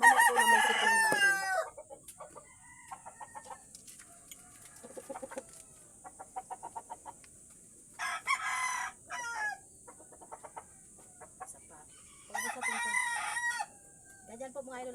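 A chicken with a cold, with loud close rooster crows at the start and later, along with scattered clucks and soft low calls in between, under a steady high background hiss.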